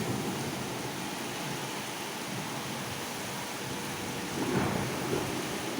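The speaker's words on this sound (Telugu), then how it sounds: "చూడండి వాన పొగలాగా వస్తుంది ఉరుములు మెరుపులు" Heavy rain pours in a dense, steady roar with wind in Bangalore, and a deep rumble of thunder swells up near the end.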